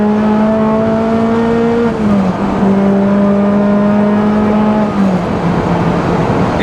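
A supercharged Honda S2000 engine pulls hard through long gears, a loud steady rising drone heard from inside the car, its pitch climbing smoothly, dipping briefly at two gear changes, then climbing again.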